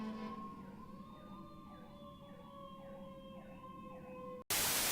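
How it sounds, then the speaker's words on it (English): An ambulance siren wails in a steady rising-and-falling pattern, moderately loud and passing, before a sudden burst of broadband noise cuts in at the end. "there's an ambulance"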